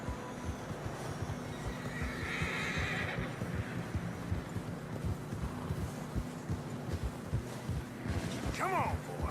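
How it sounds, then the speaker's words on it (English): Horses trudging through deep fresh snow in Red Dead Redemption 2 give a steady rhythm of muffled hoof thuds, with a loud, close whinny near the end, all beneath a low wind-like background. "Horses are struggling."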